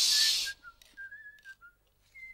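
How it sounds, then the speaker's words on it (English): A series of short whistled notes, clear and melodic, rising and falling with brief pauses between them, after a burst of hiss at the start. "I've got this strange whistling in my ears."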